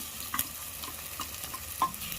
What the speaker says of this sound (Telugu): ఒక పచ్చివాసన పోయేంత వరకు మనం ఫ్రై చేసుకోవాలి